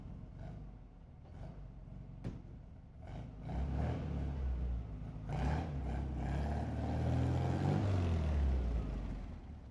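The engine of a 1967 VW Beetle drones from inside the car as it accelerates, a low rumble rising steadily in pitch and loudness through gear changes, with some wind noise in the cabin.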